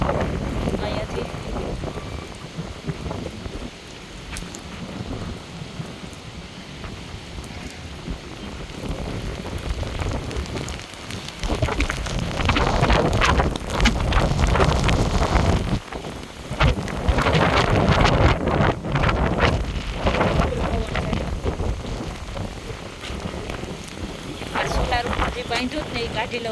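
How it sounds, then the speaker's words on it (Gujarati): Strong wind gusts with heavy rain pour over a home with mango trees during a storm, a broad roaring rush that surges and swells across the whole stretch, with someone talking underneath. "બહુ પવન છે અત્યારે"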